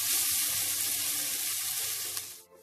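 Ingredients for bigos sizzle in a hot frying pan as they are stirred, a bright, close, continuous crackle that cuts off abruptly at the end.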